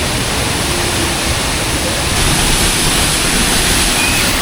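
A Slovenian waterfall, Kozjak or Peričnik, pours in a dense, loud, unbroken roar of falling water heard from close by.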